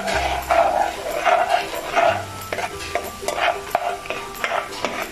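Sautéed garlic and onion being scraped and stirred out of a pan into a bowl, with repeated close scraping strokes and a light sizzle beneath, while a dog barks faintly in the background.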